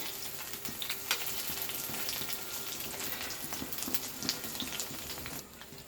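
Battered eggplant slices deep-frying in hot oil as they are turned, a constant bubbling sizzle with occasional sharper crackles and light stirring clicks, close and fairly quiet.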